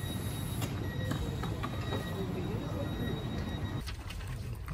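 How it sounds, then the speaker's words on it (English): Steady low rumble and rattle of a double-decker train running from Geneva Airport toward the city centre, a continuous close interior hum with faint high squeal, no clear talk. "We're on more of a double-decker train, able to lounge."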